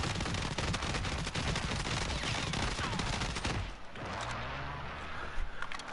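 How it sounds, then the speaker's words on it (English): Rapid gunfire from the Shatterblast gun in a PS4 video game, a dense, loud stream of sharp shots for several seconds that cuts off, then sparser game effects and a low rumbling tail. "that's this gun. It's John McClane's, the Shatterblast"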